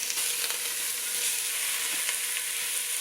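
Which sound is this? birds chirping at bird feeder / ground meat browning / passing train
ground meat browning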